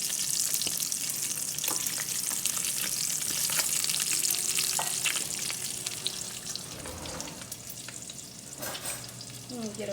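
Bacon fries in a pan with a dense, bright sizzle and spattering crackle throughout, joined by a few clinks and scrapes of turning the strips, close and steady with no talk.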